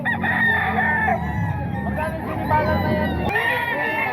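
Several gamecocks crow loudly, overlapping one another at a rooster sale in Bukawi, with clucks and a dog barking amid the crowd, and someone talking throughout.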